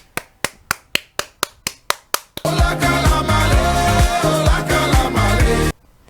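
About nine sharp hand claps, evenly spaced and close, ring out alone before loud music takes over.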